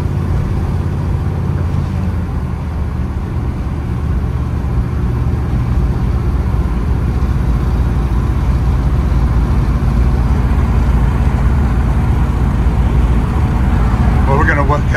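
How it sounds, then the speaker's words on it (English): A 1951 Chevrolet panel truck with side exhaust pipes drives along, its engine rumbling low and steady throughout, while someone talks over the drone. "just the exhaust note is amazing with the side pipes"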